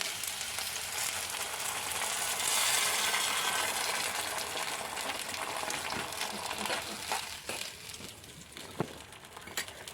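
Tamarind water poured into a hot pan of onions for onion theeyal, a loud hiss and sizzle that swells and slowly fades into softer bubbling and a few clinks.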